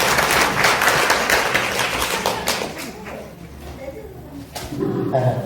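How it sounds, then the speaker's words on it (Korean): Audience applause greets the first Minister of Patriots and Veterans Affairs as he comes up to give a congratulatory address at a film preview event. Sustained loud clapping fills the room, then thins out toward the end. "다시 한번 큰 박수로 맞아주십시오."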